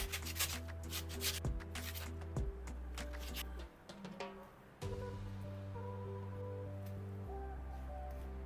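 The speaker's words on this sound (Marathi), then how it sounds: "आणि जे 2 बटाटे आपण घेतले होते ते मी आता इथे किसून घेतेय." Two potatoes are grated by hand in a home kitchen, making soft, rhythmic rubbing strokes at close range. The grating is faint, and a steady low hum runs underneath it.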